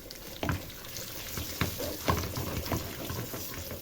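Coriander dropped into a hot pan of oil while cooking taro and potatoes, giving a steady close sizzle broken by sharp scraping clicks of a spoon stirring, with no voices.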